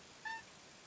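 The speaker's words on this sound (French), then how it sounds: "vous allez entendre mon chat pendant toute la vidéo," A domestic cat gives a single short, faint meow indoors against quiet background hiss, with no talk.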